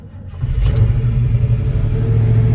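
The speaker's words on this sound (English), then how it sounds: "We're going to start up our 72 K10" The engine of a 1972 Chevrolet K10 short-box four-wheel-drive truck with FiTech fuel injection cranks and catches, then settles into a loud, steady, close rumbling idle.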